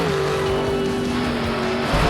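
Cartoon monster truck number 6 drives along with a loud, steady engine drone and a whining tone that holds throughout, heard alone with no talk.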